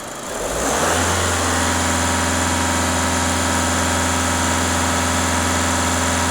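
A Skoda Octavia engine with a choked DPF/EGR system climbs quickly to about 2,500 rpm and holds there with a steady loud drone and buzzing vibration, close up with no voices.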